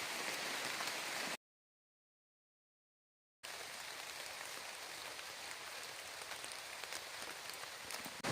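Rain pours steadily onto a rocky Appalachian Trail section in Maine, a dense, even hiss of drops broken by one short silent gap.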